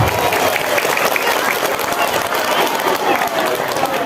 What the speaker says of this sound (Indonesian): tepuk tangan untuk para panitia di Sampalen 2